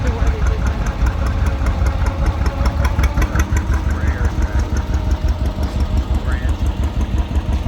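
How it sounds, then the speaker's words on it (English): A 1966 John Deere 4020 tractor rolls by in the tractor parade at the Albert City, Iowa threshermen and collectors show, its engine giving a steady, close, low rumbling idle throughout. "we got a big John Deere 4020 coming into view, 1966 edition from Summers, Iowa, driven by Vernon Thomas"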